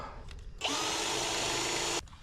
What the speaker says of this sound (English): so I can drill this hole